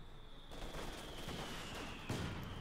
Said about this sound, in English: There you go, mortar fire though.